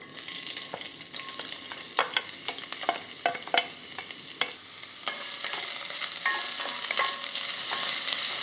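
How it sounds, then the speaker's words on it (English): Onions or shallots sizzle as they hit melted vegan butter in a pan over medium heat, with clattering stirs early on, then a steady, close frying hiss that swells slightly, no voices. "when the butter has melted, we're going to add the onions or shallots"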